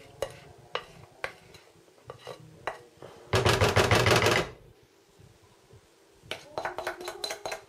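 A knife cuts through a microwave chocolate cake with a few sharp taps on a plate or board, then a dense burst of rapid scraping clatter for about a second, followed by more quick taps.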